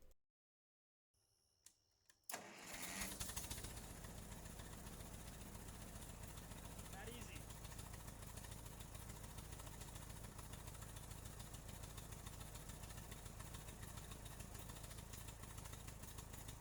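Old tractor, run for the first time in over five years, engine chugging steadily after a quiet start with a few clunks, its even running note holding throughout at moderate level.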